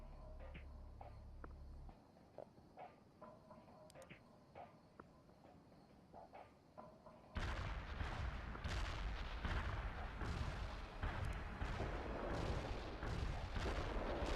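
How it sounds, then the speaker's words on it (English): Artillery barrage in the World in Conflict strategy game: after a quieter stretch of scattered battlefield noise, a loud sustained roar of shell impacts and explosions erupts and rumbles on to the end. "Fire mission received. Artillery barrage inbound."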